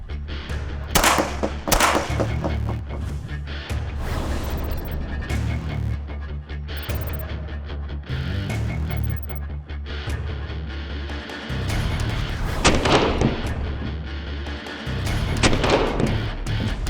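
Shooting practice, with several sharp gunshots cracking out at irregular intervals over a background of rustling and handling noise, fairly loud and close.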